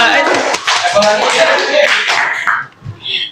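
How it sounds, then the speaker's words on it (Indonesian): A classroom of students claps together during a counselling session, a brisk burst of hand clapping lasting a couple of seconds before it tapers off into quieter sounds. "berikan tepuk tangan."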